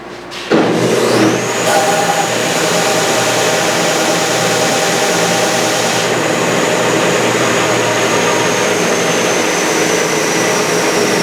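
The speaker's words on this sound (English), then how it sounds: "I'll take it to the sander and I'll sand it so there's just a hint of the wood that's beneath the slot left over." Bench sander grinding the ends of a guitar fretboard, a loud continuous motor roar with a sustained high whine running throughout, starting abruptly and holding steady with no talk.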